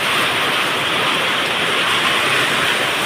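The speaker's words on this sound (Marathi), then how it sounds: "हे बघा पाऊस सुरू झालेला आहे आणि खूप जोरात पाऊस आहे" Dense, constant hiss of heavy rain pouring down, loud and unbroken from start to finish.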